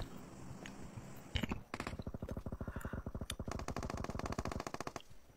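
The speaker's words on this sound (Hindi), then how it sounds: "सामने हमें फायर का आवाज़ आया" Rapid bursts of automatic gunfire in PUBG Mobile rattle in fast, evenly spaced shots, starting after a short quiet stretch and continuing steadily, fairly loud and close.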